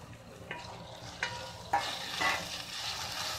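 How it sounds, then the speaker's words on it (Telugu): Tomato pieces frying in oil with ginger and onion, a soft sizzle that swells midway, punctuated by a few distinct spatula taps and scrapes close by. "కొంచెం సేపు నూనెలో ఉడకనివ్వాలి."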